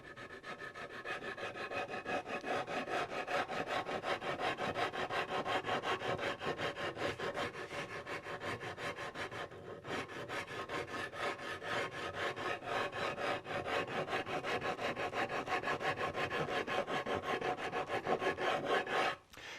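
A dragon file rasping across the contoured wooden body of a Stratocaster-style guitar: steady, close, rhythmic back-and-forth strokes continuing without pause for the whole stretch.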